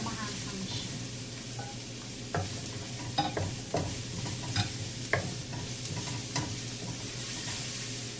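Kohol or suso snails stir-fried with chili sizzle steadily in a pan, with scattered clinks and scrapes of stirring layered over the frying hiss.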